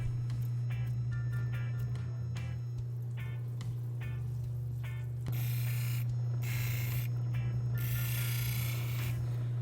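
A lapidary 280 grit grinding wheel hums steadily while Ethiopian crystal opal is pressed against it in repeated short passes, producing rhythmic scraping bursts that turn harsher and hissier with wetter contact partway through.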